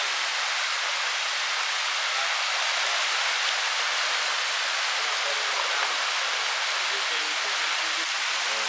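A Costa Rican waterfall on a mountain hike pours in a constant, dense, hissing rush, loud and unbroken for nearly nine seconds.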